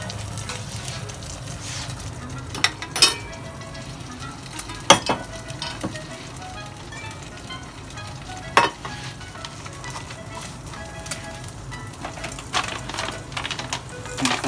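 An egg frying in a pan for a keto breakfast, a steady close sizzle and crackle with occasional sharp pops and spatula clicks, no talking.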